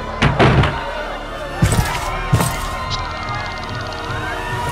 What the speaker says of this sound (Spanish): Cierra la puerta, estúpido.